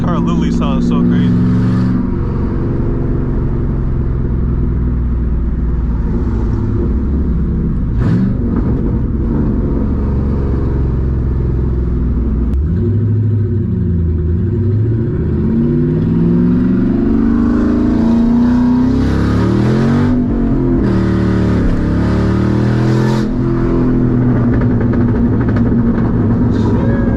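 A straight-piped 2007 Mustang GT roars continuously from the cabin during a drive, its exhaust rising and falling through revs with rougher bursts toward the end, while someone speaks over it.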